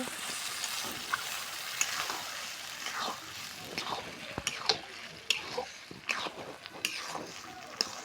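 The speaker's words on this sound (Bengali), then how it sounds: "এবার সুন্দর করে আলুটার সাথে মশলাগুলো আমরা মাখিয়ে নিচ্ছি।" Boiled potatoes sizzle in a pan while being stirred and mixed with spices. The frying hiss is steady and the spoon scrapes and taps against the pan repeatedly, close up.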